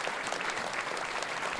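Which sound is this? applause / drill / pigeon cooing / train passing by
applause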